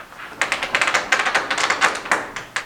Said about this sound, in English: you have a patio door that is stuck and loud like this